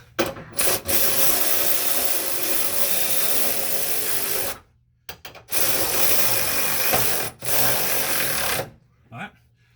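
A ratchet tightens the bolts on an AWD conversion bracket on an Acura RSX/Civic EM2, giving loud, close bursts of rapid clicking separated by short pauses.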